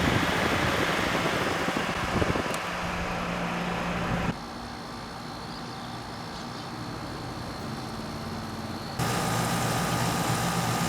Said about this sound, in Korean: 실외측 응축기 쪽 네, 더운 바람이 나오고 있습니다.